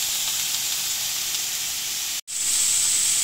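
Prawns sizzle on a hot salted griddle, a loud, steady frying hiss close by that cuts out for a moment and then comes back sharper.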